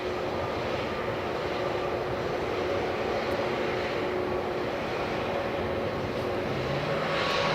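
A Lufthansa airliner passes near Edinburgh Airport, producing a constant broadband jet roar with a faint steady engine whine, holding level throughout without voices.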